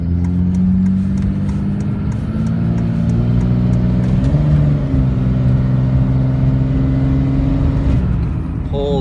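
A 2005 Cummins diesel pickup truck pulls up a hill under load, its engine droning loud and close with a steady low rumble and rising pitch, plus a whistling whine building through the climb.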